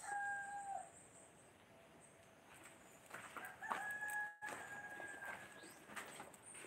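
Pet rooster crowing among backyard chickens, two faint drawn-out crows some distance away with soft clucking and ambient outdoor noise between them.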